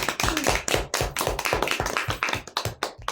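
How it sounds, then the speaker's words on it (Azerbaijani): A classroom group claps for a student, a dense burst of close, rapid applause from several people with no talk over it. "Gəlin alqışlayaq Nigar'ın."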